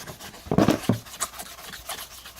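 Coarse scratchy sandpaper rubbing strokes on a surface, a couple of louder rasps near the start followed by softer, fainter scraping.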